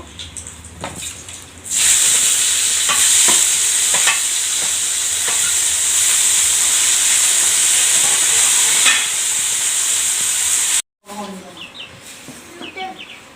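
Small fish fry in hot oil in a pan, producing a loud, continuous, hissing sizzle that starts suddenly after a quieter opening and cuts off abruptly near the end.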